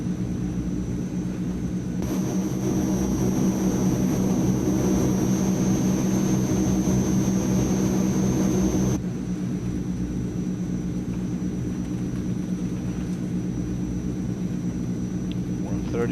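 Engines of a Transall C160 cargo aircraft drone steadily in Microsoft Flight Simulator during a climb, a loud continuous rumble with a steady whine that shifts in level partway through, while someone talks over it.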